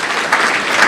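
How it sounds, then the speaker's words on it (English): A short burst of audience applause for an inductee at an induction ceremony, a dense, steady patter of many hands clapping close by with no talking over it. "So, big round of applause for Mary Ann, please."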